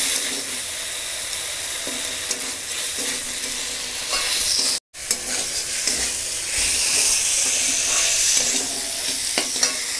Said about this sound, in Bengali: এবার আলুটাকে মশলার সঙ্গে ভালো করে একটু কষিয়ে নেব।